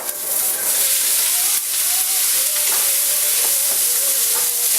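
Green beans tumble into a hot sauté pan and hit the oil with a bright, steady sizzle and hiss, a few light clatters and stirring scrapes sounding close up over the continuous frying.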